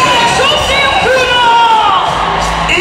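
A church congregation at a prophetic ministration service shouting and cheering together, a loud sustained roar of many voices with whoops and cries throughout.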